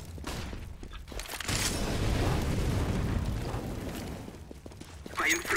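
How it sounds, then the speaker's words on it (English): A flashbang grenade goes off in a tactical shooter: a sharp burst followed by a sustained roaring blast and ringing that lasts a few seconds, with quieter game clicks and noises before and after. "I am throwing a flashbang."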